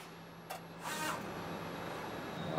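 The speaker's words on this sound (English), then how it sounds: "The squeegees are then sent down for the print." A MILARA TouchPrint TD2929-3D Cyber PCB stencil printer lowers its squeegees for a print stroke, giving a brief mechanical clack and then a steady whirring hiss over a constant machine hum.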